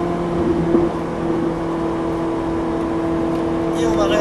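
A Ferrari 458 Italia's engine drones steadily from inside the car on a race circuit, a sustained hum that rises slightly near the end as it begins to re-accelerate.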